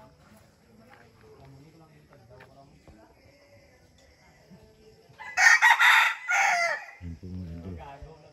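Gamefowl roosters crow loudly in a sharp burst of two or three calls, preceded by quieter clucking and bird sounds, while someone talks before and after.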